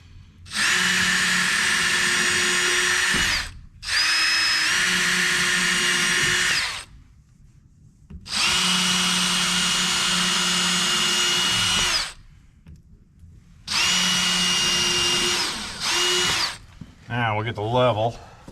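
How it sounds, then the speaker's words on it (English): A power drill bores holes while a steer pen is being built, with four long, loud, steady whirring runs separated by short pauses, then a brief wavering spin-down at the end. "I'll drill holes here."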